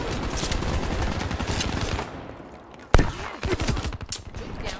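Dense automatic gunfire rattles continuously in a Black Ops 3 match, then a sharp, loud SVG-100 sniper crack stands out, followed by more bursts of fire, with no voices.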